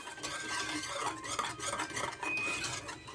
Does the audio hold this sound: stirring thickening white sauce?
yes